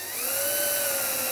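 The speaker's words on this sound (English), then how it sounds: "start to drill another hole using the pilot hole" A power drill bores through a wooden table leg, following a pilot hole, with a steady high-pitched whine that holds constant and close for a short burst.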